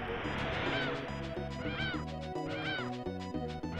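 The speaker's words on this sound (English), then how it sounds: "Okay, you freaking birds, get out of the way." Cartoonish bird cries from the video game Tales of Phantasia, repeated chirping squawks over busy looping game music and sound effects, loud and close throughout.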